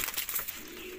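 Salara pigeons among a group of fancy pigeons give soft, low cooing, close by and steady, with a few brighter chirpy notes over a constant background hiss; no one speaks.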